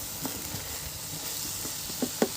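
Shallots frying in a pan for Kerala ulli theeyal curry, a steady soft sizzle and hiss with a few light stirring clicks and scrapes, quiet and close.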